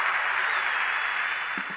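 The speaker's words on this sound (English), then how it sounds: "Applause for Mouse." Applause for a character named Mouse, a steady broadband wash of clapping that holds evenly at moderate loudness throughout, with no voices over it.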